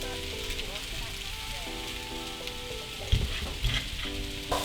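Garlic, onion and peppers cooking in a cast iron skillet for a seafood hash, producing a moderate, continuous sizzle with occasional stirring scrapes and knocks; a faint tonal hum runs underneath.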